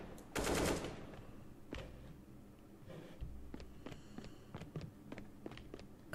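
Video game gunfire aimed at the player: a loud burst of rapid machine-gun fire, then scattered single shots and short bursts over quieter background sounds.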